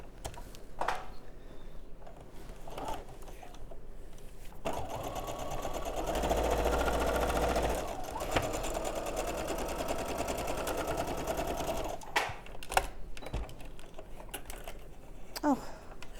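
A sewing machine stitches quilt pieces along a quarter-inch seam, its needle whirring in a steady burst of several seconds amid quieter handling noises and a little talking.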